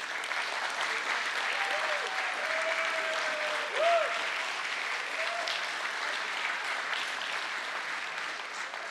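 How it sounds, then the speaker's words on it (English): Steady audience applause fills the hall at the Paytm (One 97 Communications) stock listing ceremony, a dense, even wash of clapping with a faint voice over it. "Let us put our hands together one loud time to cheer for"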